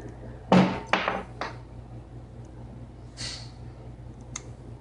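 A Sterling Arsenal rifle is opened for inspection after a cleaning-lubricant comparison test, giving three sharp metallic clacks in quick succession, then a lighter click and a small tick, all close and alone.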